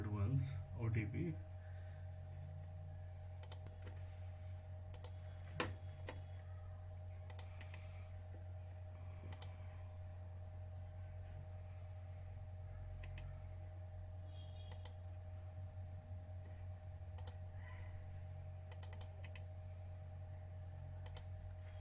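Someone types a password and one-time code on a computer keyboard, quiet scattered key clicks over a steady low hum, with a louder burst of activity at the start.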